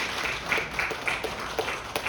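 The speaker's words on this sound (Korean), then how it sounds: "우리 한번 박수로 우리 한번 인사를 갖도록" A church congregation claps as a greeting for a pastor's family during a Sunday worship service: a steady, moderately loud patter of many hands with a loose pulsing rhythm, lasting about two seconds.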